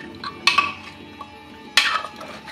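A spoon scrapes and clinks against a pot while chicken stew is stirred after garam masala powder and coriander leaves go in, two distinct metallic knocks amid quieter rustling.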